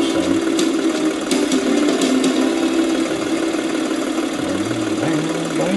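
Tractor engine in the farming video game Professional Farmer 2014, a loud, steady mid-pitched idle running in low gear, with a faint tonal hum that rises and bends near the end and no talk.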